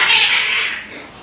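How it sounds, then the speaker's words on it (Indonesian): Cats fight in an alley, giving a single loud, strained yowl that fades over about a second, close and alone. "pertikaian antar kucing di gang saya"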